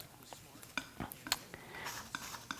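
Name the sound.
mixing white paint on a palette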